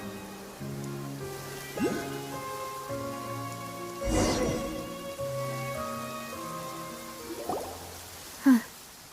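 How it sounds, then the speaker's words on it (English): Rain falls in Genshin Impact as a soft, steady patter under sustained musical tones, with a few sharper drips and splashes rising above it now and then. "It's been raining non-stop for a few days now."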